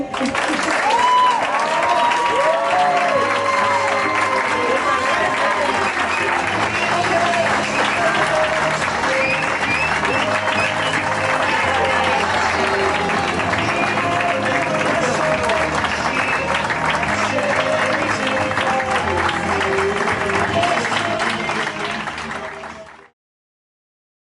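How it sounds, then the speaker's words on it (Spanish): Wedding guests applaud the newly married couple in a dense, sustained burst that stays loud throughout and cuts off abruptly near the end. "Un fuerte aplauso."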